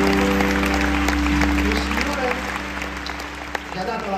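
Studio audience applause at a live comedy show in Basel, steady and fairly loud throughout, with a low sustained hum and background tones underneath.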